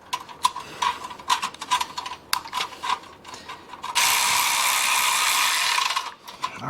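A battery-operated power tool tightens large hose clamps on Harley-Davidson slip-on exhaust pipes. Irregular ratcheting clicks come first, then a steady loud whirring burst lasts a couple of seconds before cutting off.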